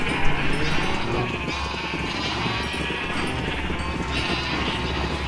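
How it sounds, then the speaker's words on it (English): Sheep bleat repeatedly in the Minecraft video game, several overlapping calls over a steady background hum, with no talking. "We got back to breeding some more sheep."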